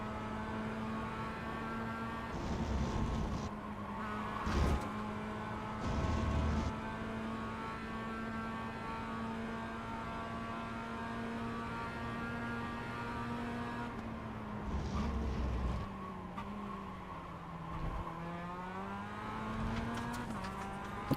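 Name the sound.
race car downshifting to second gear without a blip, iRacing video game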